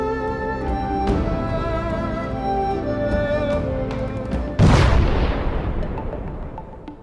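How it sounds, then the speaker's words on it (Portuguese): A rocket exploding during a failed landing: one sudden loud blast cuts in midway and fades into a rumbling decay, over a steady bed of background music. "resultando em uma explosão."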